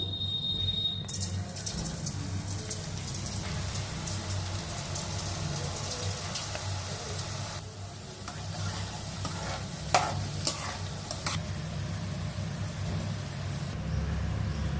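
Boondi batter frying in hot oil for kara boondi: a steady, dense sizzle and crackle runs throughout at close range, with a few louder pops and stirring scrapes, and no talking.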